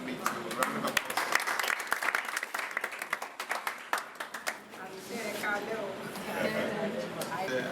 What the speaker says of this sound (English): So, Mommy Nika, can you please give us one little round of applause?